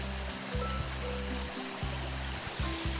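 A mountain valley stream flows steadily beside a stream, giving a continuous soft rushing wash of water heard at moderate distance, with a few faint low tonal bursts and no speech.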